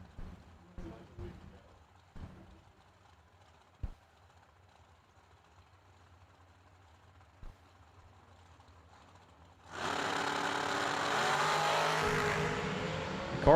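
The 490 dragster, a car from Billings, Missouri with a bright green hood scoop, sits at a drag strip during the Mickey Thompson Million race. Quiet ambience with scattered clicks gives way to a sudden, loud, sustained engine roar in the final seconds.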